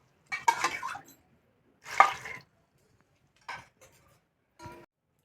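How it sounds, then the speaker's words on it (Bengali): Water is poured from a bowl into a pressure cooker of chickpeas with bundled cloves, heard as four short, close splashing pours separated by pauses. "এখানে 2 বাটি জল দেব আমি"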